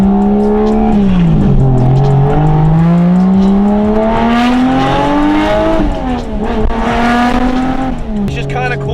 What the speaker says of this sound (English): Stock turbo JZs are kind of fun. This thing is way too loud for what it is.